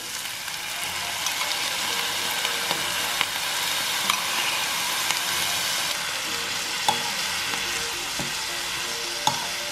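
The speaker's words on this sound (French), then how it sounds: "Et maintenant je vais ajouter la sauce." Sauce hits a hot pan of Asian stir-fry pasta, giving a loud, steady, close sizzle with faint stirring clicks and pops throughout.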